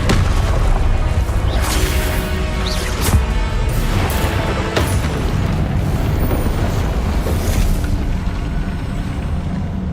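The Confringo spell explodes in Hogwarts Legacy amid continuous loud booming and crashing combat noise, with several sharp bursts standing out over about ten seconds.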